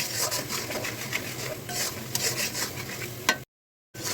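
Duck meat curry with turmeric and chilli powder being stirred and fried in a pan: continuous close scraping and sizzling with rhythmic stirring strokes, cut by a brief silence near the end.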